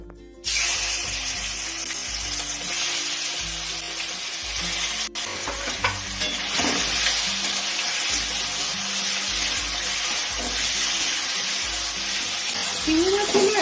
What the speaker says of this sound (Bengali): এবারে মাছগুলো ভাজা করে নেবো হালকা করে